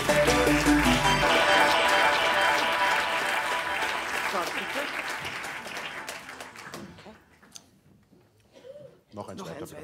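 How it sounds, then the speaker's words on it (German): An audience at a literature show applauds the winner of a prize draw, dense clapping loud at first, then thinning and fading toward the end as a few scattered claps remain and a voice speaks. "Großen Applaus für die Gewinnerin"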